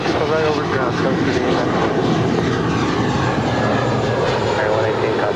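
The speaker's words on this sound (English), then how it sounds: "That is Delta Connection, Flight 3894, coming in from Phoenix, Arizona, and an E175LL." A Delta Connection Embraer E175 jet at LAX, a loud continuous broadband engine roar that holds steady throughout, with voices talking over it.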